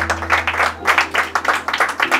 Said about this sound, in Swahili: Tuwapigie makofi hawa watu bwana